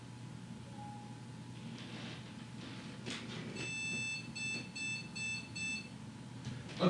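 Computer motherboard beep codes during a Noctua NH-D15 dual-fan cooler test build on an Intel i7 system: a clear train of electronic beeps repeating in a steady pattern over a low hum, fairly close, with no talking.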